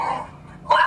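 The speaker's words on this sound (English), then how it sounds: "Piper would like to be part of the podcast. I don't think she can make a literal appearance, but she might bark a little bit." A pet dog named Piper gives two short, close barks in quick succession indoors.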